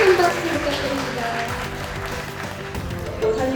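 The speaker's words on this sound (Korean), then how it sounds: "큰 박수 부탁드립니다." Audience clapping at a children's art exhibition event at Daegu Art Museum, a dense, moderately loud patter of applause running throughout with brief speech over it.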